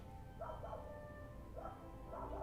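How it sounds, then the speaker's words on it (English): A small puppy yips and whimpers in a few short, high bursts, fairly faint beneath steady room noise at a coin auction. "Somebody got a puppy. I can hear a little one."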